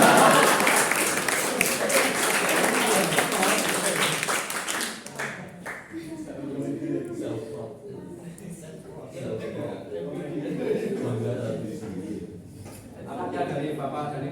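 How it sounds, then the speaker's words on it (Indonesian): Audience applause after a school branding project presentation: dense clapping for about five seconds that stops abruptly, followed by a speaker talking over a quieter room. "Apa tepuk tangan dulu?"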